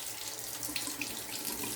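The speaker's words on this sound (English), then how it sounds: "Cold water rinse." Cold water running steadily from a tap for a rinse after a straight-razor shave, a close, even hiss of flowing water into a sink throughout, no talking.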